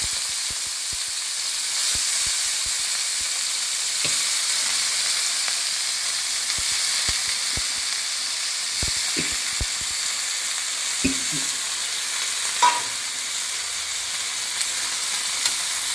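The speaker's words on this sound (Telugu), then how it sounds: "అదే ఆయిల్ ఉంది కదా, అందులోనే వంకాయ ముక్కలు వేసి ఫ్రై చేసుకోవాలి" Brinjal pieces frying in leftover oil in a pan, a continuous close hissing sizzle throughout, broken by scattered clicks and soft stirring knocks, with no voices.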